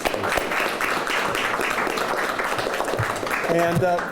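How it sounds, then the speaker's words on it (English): Applause from attendees at an Albuquerque city news conference, a continuous patter of clapping that fills the room throughout, with a voice speaking over the final moments. "I want to give you a big round of applause"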